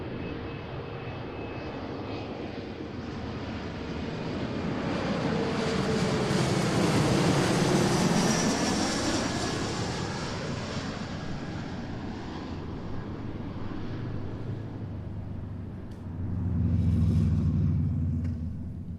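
American Airlines CRJ regional jet arriving from LAX, a steady jet engine roar building to a peak and slowly fading, with a low rumble swelling again near the end.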